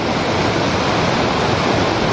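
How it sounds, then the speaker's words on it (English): A snowmelt river on a mountain hike rushes in a loud, continuous broadband roar that fills the whole stretch without any voices. "Turning into a snowy river."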